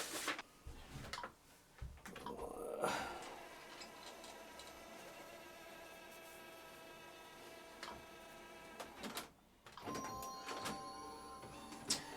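An Epson EcoTank ET-16600 printer with a noisy, jamming document feeder makes faint mechanical clicks and ticks, with soft whirring and a few rubbing sounds. The sounds are close and quiet, and no one speaks.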